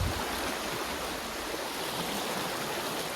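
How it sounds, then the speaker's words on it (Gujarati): Canal water rushing steadily past in a village setting, a loud, continuous broadband wash with no breaks and no voices over it. "અહીંયા હું તમને થોડીક કેનાલનું પાણી જાય છે બતાવું"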